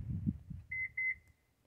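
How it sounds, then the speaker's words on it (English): A remote key fob for a 2014–2019 Toyota Highlander or Sienna with a faulty electronic tailgate gives a short double beep, two quick high electronic tones after some low rustling handling noise nearby. "Here, double beep."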